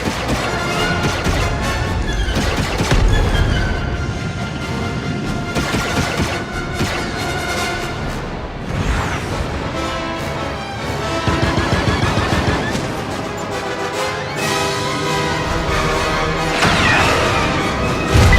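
Rapid turret gunfire rattles in the video game Star Wars Outlaws, loud sustained bursts mixed with blasts, crashes and explosions over a dense game soundtrack, with no talk.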